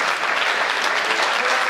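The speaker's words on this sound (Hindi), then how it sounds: "बढ़ाओ ताली," Steady, dense applause from a large audience at a Hindi comedy poetry gathering (hasya kavi sammelan), loud and continuous throughout with no voices on top.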